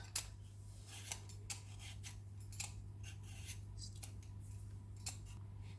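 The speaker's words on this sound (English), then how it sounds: "I've got my potato peeler. I'm going to peel the potato." Steel potato peeler scraping strokes over a raw potato while making leek and potato soup, a run of short, close, fairly quiet rasping swipes in an uneven rhythm over a steady low hum, with no talking.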